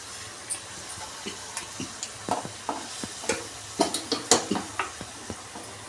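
Whole spices fry in hot oil for a tempering for moong dal with Malabar spinach: a soft steady sizzle with scattered sharp pops and stirring clicks that grow denser and louder toward the end. No one speaks.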